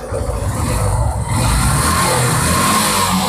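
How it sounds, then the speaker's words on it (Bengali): A Yamaha Fazer motorcycle's engine catches on the self-starter and revs, a loud, steady mid-pitched drone that swells slightly after the first second and carries on close by without talk. "সেলফ স্টার্টের বাইক, সেলফ নিয়ে নিছে।"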